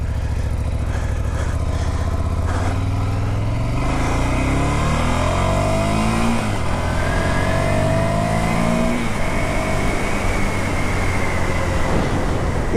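Ducati Monster 797 motorcycle engine accelerating on a ride, a loud steady drone whose pitch climbs through several gear changes over a constant rush of wind.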